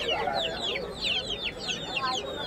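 Kadaknath and local desi chickens at the Galiff Street pet market in Kolkata, with repeated overlapping clucks and short calls from several birds close by amid steady market murmur.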